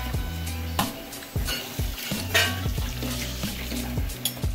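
King crab stir-fried with satay in a pan sizzles and hisses steadily, with repeated clanks and scrapes of a utensil against the pan at a near, even rhythm; no one speaks.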